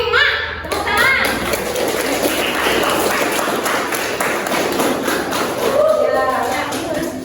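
A classroom of children applauds group 5, loud sustained clapping with thumps and excited chatter from the kids throughout, and a teacher's voice briefly at the start.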